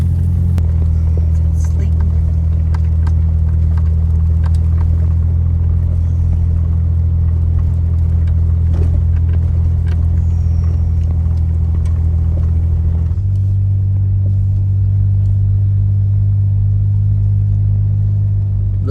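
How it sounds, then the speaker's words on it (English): A 2010 Jeep Wrangler's engine rumbles low and steady from inside the cab while driving up a snowy mountain road, the drone shifting to a lower, heavier tone partway through, with no clear talk over it. "Most of my adventures will be done in this old Jeep here. It's a 2010 Wrangler"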